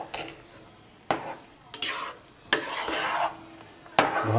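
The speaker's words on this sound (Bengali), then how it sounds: "এবার এটাকে সুন্দর করে মিশিয়ে দিই" A spoon scraping and stirring chicken khichuri with added ghee and kewra water in a pot, four distinct scraping strokes with sharp onsets, close and moderately loud.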